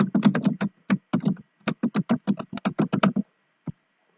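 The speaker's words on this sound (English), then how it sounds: "Type in your text." Keys tapped on a computer keyboard in quick, uneven bursts of crisp clicks, close and clear, trailing off into a pause and one final keystroke, with no voices.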